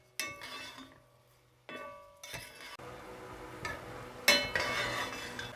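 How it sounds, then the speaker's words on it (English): Risotto rice with onions and celery scraped and stirred in a pan with a spoon, giving intermittent clinks and scrapes with short pauses between bursts of stirring, close by and alone. "Give everything a good stir just for a couple of minutes"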